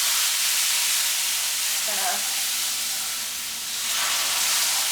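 Chicken gravy mixture sizzles and hisses steadily in a hot pan on reduced heat, a broad continuous frying hiss with brief bubbling near the middle and a short spoken word.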